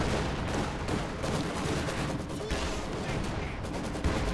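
Dense, continuous crackle of battlefield gunfire in the real-time strategy game Company of Heroes 2, with machine guns suppressing infantry during a large armor battle, a steady and fairly loud barrage without pauses.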